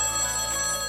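A telephone rings loudly and close by, a steady bright electronic tone with no one speaking.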